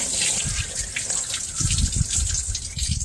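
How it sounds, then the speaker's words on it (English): A water hose gushes through a car engine's cooling system and heater core during a flush, a close, steady rushing of water with bubbling surges. "Well, we're flushing out our core."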